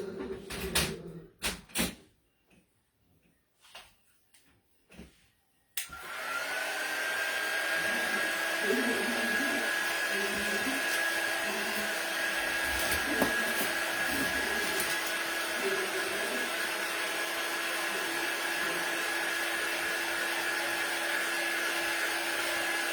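A hair dryer blows steadily on a freshly painted Christmas sign, a loud continuous whirring whine that starts abruptly after a few seconds of light handling noises and runs unbroken to the end.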